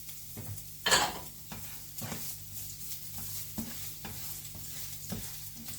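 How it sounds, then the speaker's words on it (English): Shallots and garlic are stir-fried for pad thai, with a soft sizzle under repeated scraping of a utensil against the pan at a steady stirring rhythm and one sharper clatter near the start, heard up close with no talking. "stir fry shallots and garlic first until it cook and get the fragrance from that."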